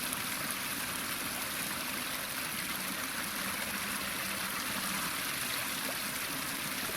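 A forest stream near a beaver dam runs steadily as water is collected for filtering on a backpacking trip, a constant close rushing and trickling wash with no voices.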